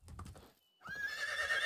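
A horse in the medieval village-life game Medieval Dynasty first gives a short burst of hoof clops. After a brief silence it lets out a loud, sustained whinny that rings on to the end.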